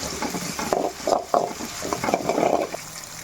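Ginger garlic paste and mint sauté in a pan for street-style chicken pasta, with a close, uneven sizzle broken by repeated spatula scrapes and stirring clinks against the pan.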